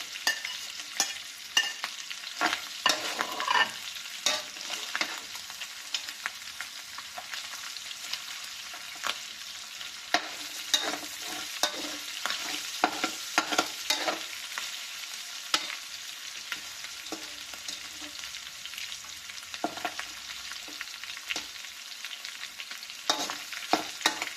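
Garlic and ginger sautéing in a little oil in a pan for a pork and beef paksiw dish, a steady close sizzle broken by scraping stirs throughout, with no talk.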